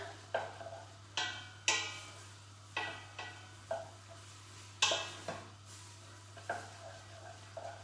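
Chilli ingredients browning in a pan while a utensil scrapes and knocks through them in about a dozen spaced strokes, each a sharp close clink that fades quickly, with a low hum beneath and no voices.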